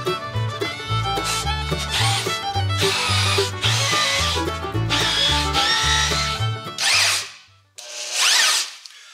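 A power drill whines in repeated bursts, loud and close, with short pauses between runs as it bites into metal cans, ending in a couple of brief high-pitched spins.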